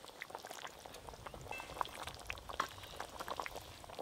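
Spiced cabbage curry gravy comes to a boil in a pan, with soft, uneven bubbling and little pops heard faintly and close, with no voices.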